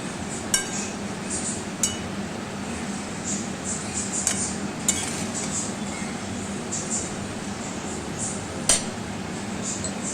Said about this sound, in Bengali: এটা আমি টমেটো কুচো দিয়ে দিয়েছি। ভালো করে কষিয়ে নেব।